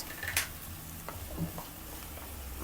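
Hilsa fish curry sizzles steadily in a pan as chili paste is stirred through it, with a few scraping stirs and soft utensil knocks over a constant close frying hiss.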